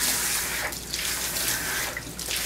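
Running water pours steadily from a tap or sprayer over a small Papillon dog during a bath, a close, continuous splashing rush with slight shifts as the flow moves across the coat.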